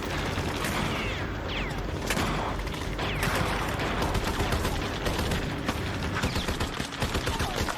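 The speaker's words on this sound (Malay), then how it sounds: "Pasukan meriam British mula membedil kawasan setelah tentera Jepun mendarat." British artillery bombards a Japanese landing area: a dense, continuous roar of battle with repeated heavy gunfire and booming blasts layered throughout, loud and sustained with no pauses.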